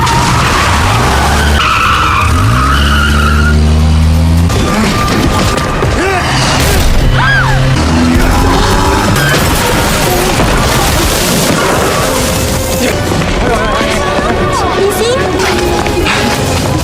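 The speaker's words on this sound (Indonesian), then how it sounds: "meminta Tian untuk segera menancap gas dan melarikan diri. Namun Collins dan Joy menembaki mereka dan kejar-kejaran lagi" Film car chase with tires skidding and screeching, engines roaring, gunfire-like bangs and crash impacts, loud and continuous with busy overlapping effects and music-like tones, and brief voices mixed in.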